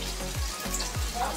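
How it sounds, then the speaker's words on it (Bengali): Hilsa fish fries in a pan with a steady close sizzle and a few faint stirring scrapes, all in one short, continuous stretch. "তো ইলিশ মাছ রান্না করছি।"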